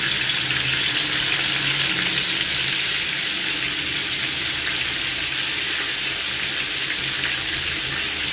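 Pieces of sea coral fish frying in hot oil, a dense, loud, steady sizzle close by with no talking.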